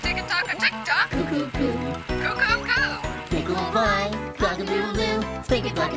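A singing voice imitates a rooster's crow within a bouncy, rhythmic song, with several repeated notes over steady beats.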